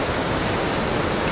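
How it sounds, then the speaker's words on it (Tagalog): The steady, dense roar of Mambukal's Seven Falls in Murcia, Negros Occidental: rushing, falling water, loud and continuous, with no other sounds. "Naririnig ko na yung agos ng tubig."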